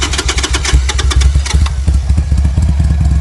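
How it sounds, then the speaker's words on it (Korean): A carbureted Harley-Davidson 883 motorcycle engine is started with the choke pulled, and loud, close uneven cranking and firing pulses catch into a lumpy, rhythmic idle. "스타트 버튼을 누르고 세로 모터를 돌려줍니다"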